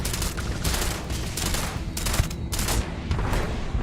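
Rapid, dense gunfire from the Starfield video game, sustained bursts of loud shots crackling one after another without pause, with no talking.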